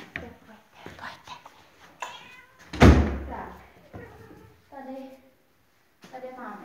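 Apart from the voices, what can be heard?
cats meowing in a cat shelter room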